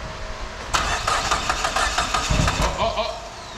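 A Dodge SRT-4 engine with a fuel leak cranks over and fires up, settling into a rough, loud idle up close with some mid-range clatter.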